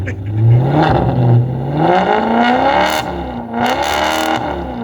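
A hail-damaged Maserati's engine revs up and down with a rising and falling whine, loud and close, with some mechanical clatter.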